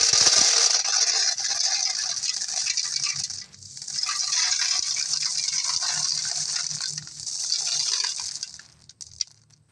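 Liquid gushing as it is poured out from a catch of river snails, a loud, steady hissing pour with a short break midway and a final trickle with clinks, no talking.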